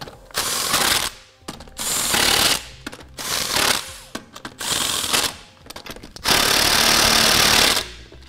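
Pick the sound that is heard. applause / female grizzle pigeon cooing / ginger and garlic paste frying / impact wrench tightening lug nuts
impact wrench tightening lug nuts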